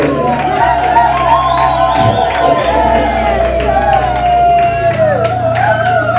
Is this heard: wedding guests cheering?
yes